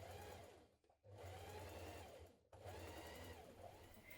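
A domestic sewing machine running steadily as it understitches a coat pocket seam, a close whirring hum in two long bursts separated by a brief stop.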